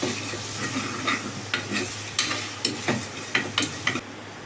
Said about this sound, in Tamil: கொஞ்ச நேரம் வதங்கட்டும்.